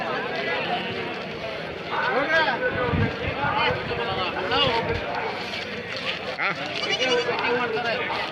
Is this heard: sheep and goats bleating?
yes